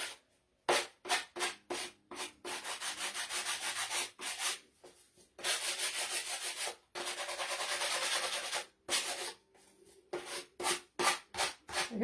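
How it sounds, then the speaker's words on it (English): Hand sanding along the edges of a white-painted Christmas decor piece, close-up rasping strokes in quick repeated bursts, some rapid and some slower, separated by brief pauses, with no talking. "So, I think I'll sand it a little on the edges before I work on it anymore."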